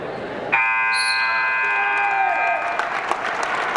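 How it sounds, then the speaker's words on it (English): A high school wrestling crowd in a gym applauds steadily throughout, and a loud buzzer tone cuts in near the start and holds for a couple of seconds. "And a crowd behind us, Paulsboro crowd, appreciating the effort."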